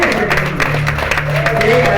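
A church crowd at an anniversary celebration applauds with a dense, lively clatter of clapping, mixed with voices shouting and talking over it throughout.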